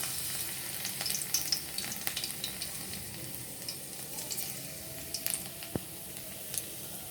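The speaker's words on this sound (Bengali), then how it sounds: "দেখো রসুনটা ভাজা ভাজা হয়ে গেছে লাল লাল হয়ে গেছে" Chopped garlic frying in oil in a wok, a steady close hiss with a few stirring scrapes and small pops, no voices.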